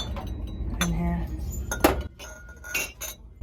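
Viking glass Jesus figurine handled on a Salvation Army thrift store shelf, giving a few light glassy clinks and taps at irregular moments among nearby clatter and faint talk.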